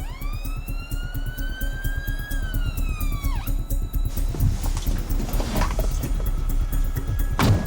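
An ambulance siren wails, sweeping and sliding in pitch, loud and close, then gives way to noisy, clattering movement with the siren tone fading in and out.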